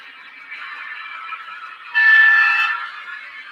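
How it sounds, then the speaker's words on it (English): An Alco model locomotive on a train layout sounds a steady, tonal horn-like note that swells louder partway through, then fades back, close and clear with no talking. "let's get our locomotive running here"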